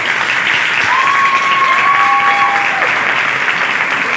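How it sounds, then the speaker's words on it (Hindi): Loud, dense applause fills the room from an audience at a team session, continuous and steady throughout, with a brief whistle-like tone over it. "पहले मैं चाहूंगा कि जरा जोर से आप लोग तालियां बजाएं,"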